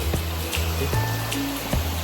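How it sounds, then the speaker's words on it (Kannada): Water flowing down a mountain stream near a resort in Wayanad, a steady close rushing wash with a few scattered splashes and clicks, continuous and fairly loud throughout. "ಈ ಕೆಳಗಡೆಯಿಂದ ನೀರು ಬರ್ತಾ ಇದೆ, ಬಟ್ ಎಲ್ಲಿಂದ ಬರ್ತಾ ಇದೆ ಏನೋ ಗೊತ್ತಿಲ್ಲ"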